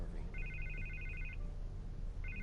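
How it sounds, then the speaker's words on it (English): Telephone ringing in the Batman Telltale video game: a repeated electronic trill in short bursts, fairly quiet under a steady low background hum. "I can't get the phone to stop ringing."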